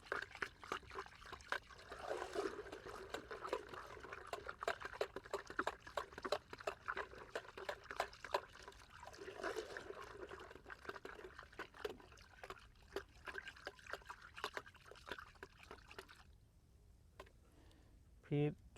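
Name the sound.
herbicide solution being poured into sprayer tank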